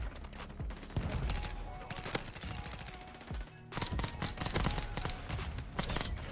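Honey Badger rifle fire in the Modern Warfare 2 video game comes in dense rapid bursts of automatic shots, loud and close, with a brief pause midway and someone talking faintly under it.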